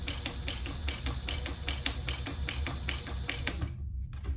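A home sewing machine with a worn needle stitches a hot pink waist pack seam near a zipper, giving a steady, rapid, loud mechanical clatter of repeated needle strikes that stops abruptly near the end.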